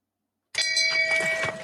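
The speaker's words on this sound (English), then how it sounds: "You deserve the shame bell." A shame bell sound effect: after a moment of silence a single bright bell strike rings out with a clear sustained tone that holds and fades slightly.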